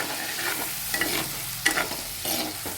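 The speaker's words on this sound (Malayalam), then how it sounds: "ഈ മുട്ടയുണ്ടല്ലോ അത് നമ്മൾ അതിനകത്ത് ഇട്ട് ഒന്ന് വഴറ്റിയെടുക്കാം" Boiled eggs sautéed in curry masala sizzle in the pan while a spatula scrapes and stirs in short repeated strokes close by.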